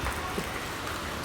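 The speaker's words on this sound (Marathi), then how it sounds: "तर पाऊसच पाऊस आहे," Heavy monsoon rain falling around a flooded college campus, a steady dense wash of noise, moderately loud and unbroken for just over a second, with no talking.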